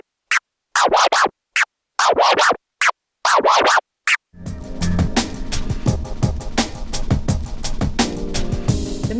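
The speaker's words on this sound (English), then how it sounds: "the military scratch, which is a combination of babies and stabs" Military scratch on a DJ controller, blending baby and stab scratches: first a solo run of sharp, chopped scratch bursts in quick rhythmic groups, then the scratches continue over a loud, steady beat backing track.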